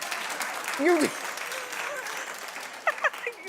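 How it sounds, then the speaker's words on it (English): Studio audience at a daytime TV talk show claps and whoops in a brief, moderate burst beneath a voice as she talks over it. "Clap if you remember a mimeograph machine."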